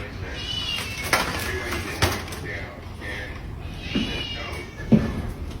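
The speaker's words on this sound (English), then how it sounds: "Even her cat seems disturbed," A cat meows a few times in a room, short moderate calls spaced out over a low steady background hum, with a possible voice murmuring underneath.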